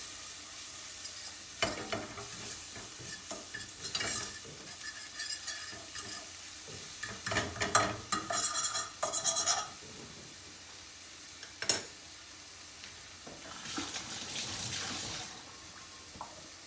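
Flour and sautéed vegetables sizzling in a pan as they are stirred, a steady close frying hiss broken by scraping stirs and one sharp clink of a utensil near the end.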